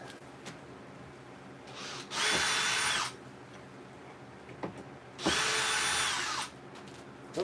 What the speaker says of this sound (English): Just taking out screws now.